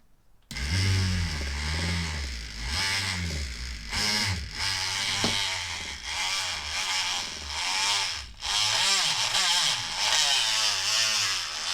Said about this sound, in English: I'm going to put my Dremel right where the hole is at, and I'm going to go